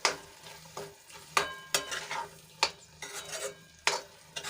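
Capsicum gravy with spices and cashew paste sautés in a pan. A low sizzle sits beneath sharp, irregular spatula scrapes and clanks against the metal, about ten strokes over a few seconds.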